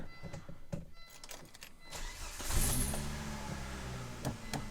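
A Volvo tank engine starts after a few clicks and rattles, catching with a rising mechanical whine and settling into a rough, close rumble.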